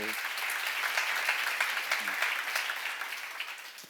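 Church congregation applauding during a worship service, dense steady clapping filling the room at moderate loudness throughout, with a few brief voices underneath.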